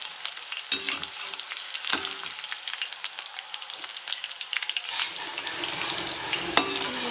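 Nimki dough frying in hot oil gives a steady, bright crackling sizzle that fills the whole clip, with a few sharper pops and spoon scrapes standing out close by.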